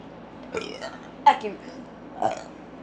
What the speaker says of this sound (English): Longest burps ever